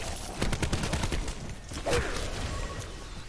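Rapid gunfire from a shooting sequence in the video game Black Ops 4, a dense burst of shots loud and close, with a heavier thud partway through and no talk.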